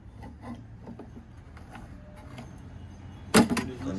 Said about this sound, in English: I use a little flathead to pop the tab up